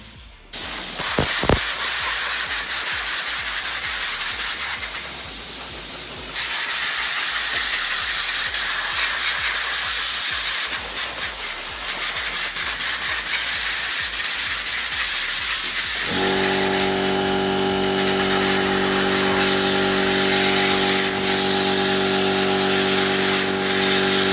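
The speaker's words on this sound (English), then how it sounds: "Now I'm going to use the air compressor. I'm just going to blast all the loose crap out from between it" Compressed air blasts loose dirt out from between the fins of a stage 2 intercooler, a loud continuous hiss that runs the whole time, with a steady tonal whine joining partway through.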